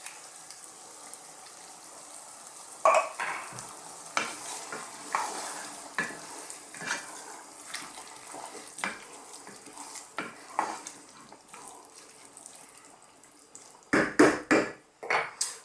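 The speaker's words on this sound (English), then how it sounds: "I'm now going to add some coconut milk" Vegetable curry being stirred in a pot after coconut milk goes in, with scattered scraping and clattering spoon strokes over a soft bubbling simmer, a louder burst of clanks near the end.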